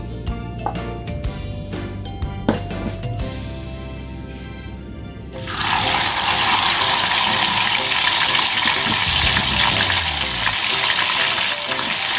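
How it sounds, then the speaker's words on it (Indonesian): Chicken gizzards and liver go into hot oil for frying: light clinks and knocks of cookware come first, then a sudden loud, crackling sizzle starts about halfway and stays steady to the end. "sekarang kita udah panaskan minyaknya untuk menggoreng ampela atinya ya"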